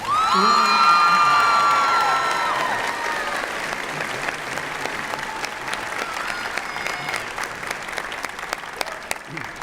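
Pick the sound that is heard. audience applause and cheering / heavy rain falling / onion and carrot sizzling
audience applause and cheering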